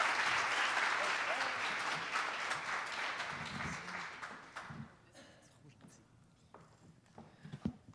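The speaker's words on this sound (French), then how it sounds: "une main d'applaudissement pour Pierre, s'il vous plaît." An audience at a presentation applauds loudly and steadily, then the clapping fades away into scattered claps, shuffling and low murmuring.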